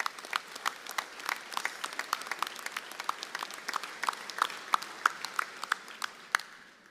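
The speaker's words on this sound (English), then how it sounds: "And I think they all deserve a big round of applause." Applause at a rural municipalities' annual convention, a crowd clapping in a brisk stream of sharp individual claps heard from some distance in a large hall, steady for several seconds with no speech.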